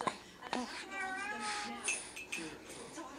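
A cat meows a few times up close in a room, with short, rising cries and brief pauses between them.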